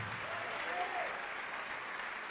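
A church congregation claps in a steady, diffuse wash of applause heard from a distance, fairly faint and continuous for a couple of seconds.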